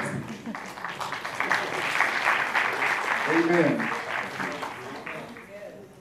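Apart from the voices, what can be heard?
audience hand clapping for the interpreter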